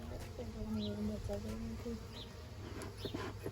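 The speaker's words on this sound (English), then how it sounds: "Trying to knock some of these live bees back into the hive, and then knock some dead ones in." Live bees buzz around a beehive, a close droning hum with shifting pitch as individual insects pass near, while a person talks quietly over it.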